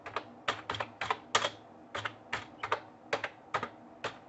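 A card holder name being typed on a computer keyboard during an online application: a steady run of crisp individual key clicks at an even pace, close and fairly quiet, with no voices.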